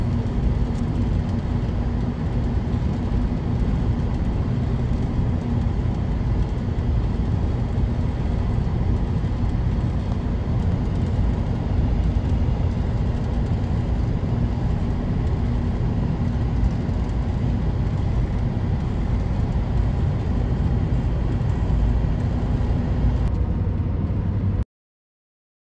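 Norfolk Southern–led freight train rolling past with a steady, loud, continuous rumble of engines and wagons throughout, alone with no talk, ending abruptly.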